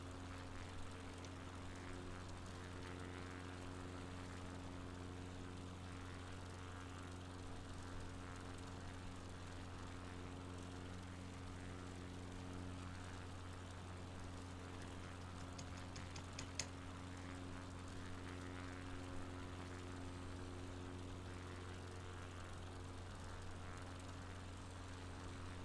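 Small bush airplane descending in flight over Patagonia, with a steady droning engine and propeller hum that stays constant and fairly even, and a brief faint click partway through.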